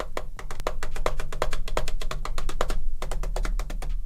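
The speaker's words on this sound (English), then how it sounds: "As I'm using the keyboard and everything to set it up" Rapid, steady keystrokes on an HP Victus budget gaming laptop keyboard, each press a close, crisp tap with a slightly hollow, tippy-tappy character, continuing without pause and with no voices.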